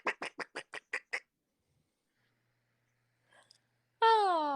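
A man imitates a duck with his voice, giving a rapid string of about seven nasal quacks, then a pause with a faint sound and a drawn-out, wavering vocal cry at the end.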